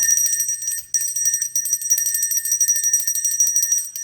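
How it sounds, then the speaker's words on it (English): A hand bell rings continuously in a bright, sustained metallic jangle, loud and close, with rapid repeated strikes and no talking. "I'm going to ring this bell"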